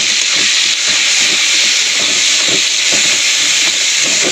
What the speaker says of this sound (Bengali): পেঁয়াজটা ভালো করে একটু তেলে ভেজে নেব।